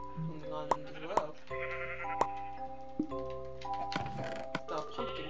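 Sheep bleat in the Minecraft video game, several tonal calls sounding one after another over a soft background with a few sharp clicks, while a person talks.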